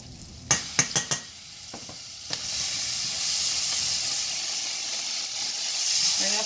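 Butter and a dab of oil in a hot pan are stirred with a utensil: a few sharp clinks against the pan up close, then a loud, steady sizzle and hiss that keeps building.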